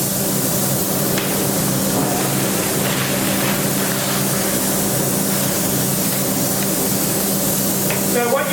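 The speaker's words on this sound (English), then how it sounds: "I'm just going to do a quick spray on a sample board" A Graco E-10HP spray gun sprays steadily onto a sample board, giving a continuous loud hiss with an engine-like drone underneath. The sound holds evenly for several seconds with no talk.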